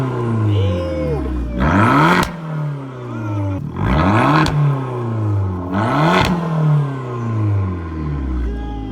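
A rebuilt, previously wrecked Lamborghini Huracan engine revved three times in close succession, each rev a loud rising roar that peaks then drops back to a rumbling idle, with brief clattery bursts at the top.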